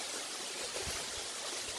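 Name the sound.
Bear Creek stream flowing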